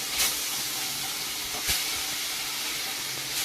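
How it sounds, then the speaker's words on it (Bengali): Tilapia fish frying in oil in a wok, a constant bright sizzle and hiss with a couple of sharper spatters, close and loud with no talk. "এবার মাছগুলো তেলে ছেড়ে দিচ্ছি।"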